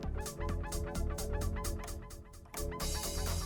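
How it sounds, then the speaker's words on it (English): Echo effect on a Stanton M.207 DJ controller synced to the track's BPM, repeating rhythmic pulses trailing the dance music, loud and continuous, with a burst of fuller sound near the end. "Now my effect echo is on 1-to-1 based on the BPM. And you can hear that effect when I bring the line fader down"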